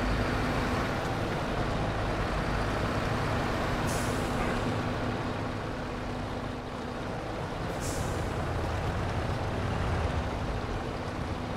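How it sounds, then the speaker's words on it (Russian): Truck engine idling steadily in the Alaska map of the off-road driving game SnowRunner, a continuous low drone with two brief hissing bursts like air releases. "У меня уже двигатель даже заводится"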